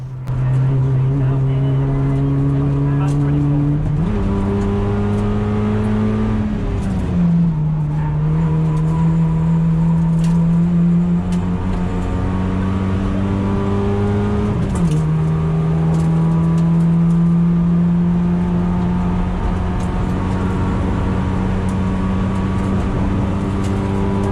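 Race car engine droning steadily on track at Blyton Park, pitch stepping up and dropping through gear changes as it chases a Hyundai; loud and continuous, heard from inside the car.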